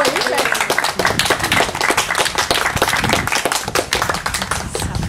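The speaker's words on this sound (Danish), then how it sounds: "Så skal der klappes." Audience clapping at a Danish celebration marking a centenary and a 30-year anniversary, a dense, sustained round of applause with sharp overlapping claps throughout, fairly loud and close.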